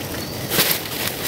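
Birds take off from inside a cave, a short soft burst of wing flapping over quiet ambient rustle, with no talking.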